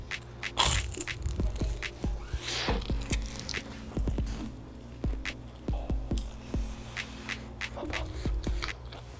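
Someone bites into crispy fried lumpia, Filipino spring rolls, making repeated close crunches and crackles followed by chewing, fairly quiet against a faint room background.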